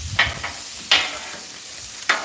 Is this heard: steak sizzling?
yes